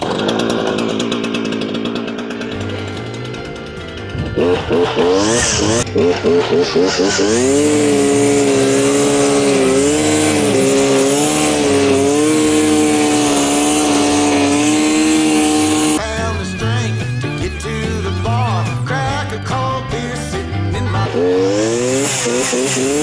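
A Holzfoorma FF450 petrol brushcutter is pulled over and fires up, its two-stroke engine revving loud and steady with harmonic whine, briefly dropping before climbing again; nobody speaks over it.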